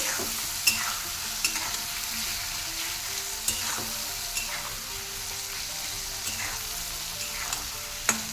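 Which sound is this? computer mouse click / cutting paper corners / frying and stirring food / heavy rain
frying and stirring food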